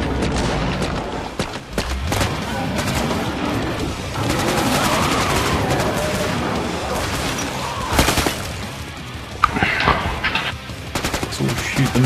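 Rapid bursts of gunfire from the Killing Floor 2 shooter game, dense and loud, with overlapping volleys and sharp cracks throughout and occasional voices underneath.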